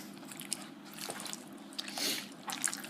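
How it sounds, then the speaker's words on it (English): Spoon stirring a sweet and sour sauce of soy sauce and apple cider vinegar in a bowl, soft wet scraping and clinking strokes, close and fairly quiet, with a few brighter taps. "And then we're just going to stir."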